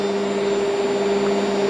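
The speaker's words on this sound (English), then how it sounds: "The pump is active, you can hear that running in the background." A Hotpoint/Indesit washing machine's pump runs in service test mode as a steady, even electric hum with a strong tonal drone, continuous and unchanging, with no talk.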